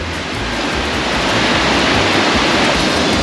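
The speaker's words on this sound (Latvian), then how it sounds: "Un apakšā upe vot tāda." A river rushes below a bridge in a loud, steady wash of broadband water noise, continuous and close with no breaks or voices.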